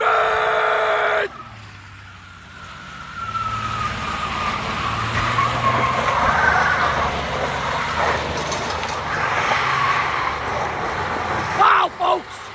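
A Buick Regal with a 3800 V6 revs hard before a neutral drop at an outdoor car event, a loud sustained engine roar that climbs and wavers before fading, with people talking over it.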